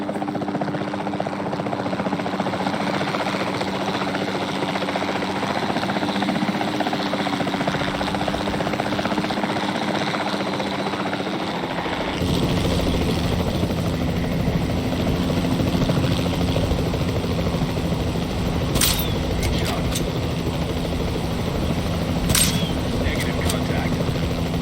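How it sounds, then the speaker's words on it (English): Capture team helicopter in the video game Jurassic World Evolution 2, a continuous rotor and engine drone lasting throughout, its tone shifting midway, with a voice talking over it. "Then the sensible thing is to take a capture team helicopter."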